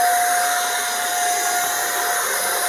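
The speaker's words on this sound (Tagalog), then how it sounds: "Pag may vacuum kayo." A Keromee vacuum cleaner runs during house cleaning in a 60 sqm modern high-ceiling house, giving a loud, steady, unbroken whine and hiss close to the microphone with no talk over it.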